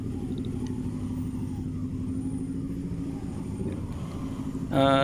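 Dense traffic on EDSA rumbles steadily around a Rusi Macho 125 motorcycle, a continuous low engine drone of many vehicles, with a sharp horn blast at the very end.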